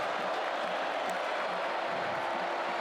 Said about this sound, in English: Crowd here at Scott Stadium getting involved.